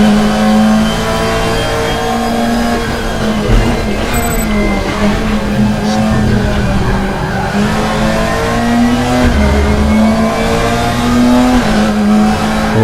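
A race car in the RaceRoom racing game, with a loud, continuous engine roar that revs up and down through gear changes, and tire squeal as the car slides, heard close and alone.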